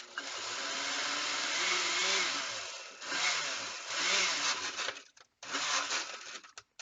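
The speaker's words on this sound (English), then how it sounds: "So now we just got to blend it." A kitchen blender whirs loudly while blending Mexican red salsa, steady motor roar for three seconds, then pulsed bursts with brief pauses between.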